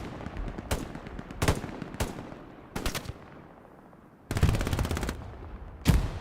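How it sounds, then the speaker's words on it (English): PPSh submachine gun fire in the WWII shooter Hell Let Loose on the Stalingrad map: several short sharp bursts, then one longer rapid burst, with quieter distant fire in between. "Getting gunned down by that PPSH."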